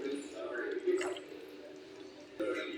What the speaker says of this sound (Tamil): இந்த டைமில் நம்ம புளி தண்ணி ஊற்றிக்கலாம்.